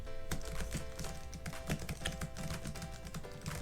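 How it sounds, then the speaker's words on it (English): Fast, continuous typing on a 2021 Dell XPS 15 laptop keyboard, soft keystrokes tapping in a steady irregular stream, close and alone with no voices. "I'll just type in the keyboard just to let you guys hear for yourself how the keyboard sounds"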